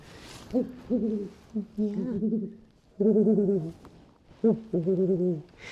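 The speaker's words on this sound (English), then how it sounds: "There's different sounds and different types of hoots, but the soft one that he goes is like, ooh, ooh, ooh." A pet owl kept on falconry jesses and anklets gives a series of soft, repeated hoots in short clustered bursts, close and clear with brief pauses between groups, with no talking.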